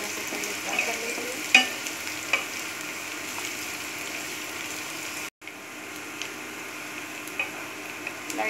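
Finely chopped onion and green chilli sizzle steadily in hot oil for prawn fried rice, with a few sharp clicks of a utensil against the pan, close and continuous, broken by a brief gap.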